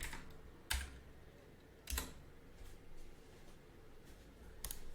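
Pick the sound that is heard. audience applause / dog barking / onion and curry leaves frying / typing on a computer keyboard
typing on a computer keyboard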